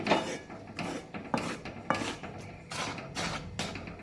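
Gram flour being stirred into hot sugar syrup in a pan over low heat for Mysore pak, giving repeated rasping, scraping strokes of a spoon against the pan at a steady rhythm, fairly close and without talk.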